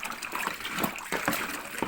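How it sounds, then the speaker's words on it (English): Liquid sloshing and splashing as homebrew is stirred in a fermenter with a large spoon, close and choppy with uneven surges of swirling water. "Now I arm myself with Big White. Give it a bloody good stir."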